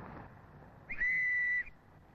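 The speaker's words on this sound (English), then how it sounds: "We play the whistle when we want somebody to come and help us." A police whistle from the 1970s blown once to summon help, a single shrill steady blast lasting under a second, close and loud against a quiet outdoor background.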